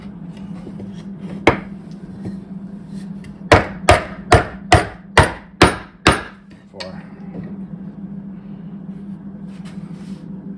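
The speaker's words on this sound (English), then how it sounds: "Hammer everything in without any glue, just to have a quick look and see how our table looks" Sharp hammer blows ring out as dowel joints are knocked together for a glueless dry fit of a table: one strike, then a quick series of about seven evenly spaced knocks, over a low steady hum.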